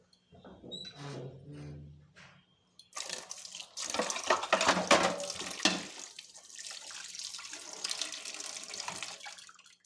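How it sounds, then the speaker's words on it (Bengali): Dishes being washed under a running tap at home, water gushing loudly and unevenly into the sink after a short stretch of talking, with clatter mixed into the stream. "আর এখানে বাসন আছে, সব আধা মেজে ফেলি।"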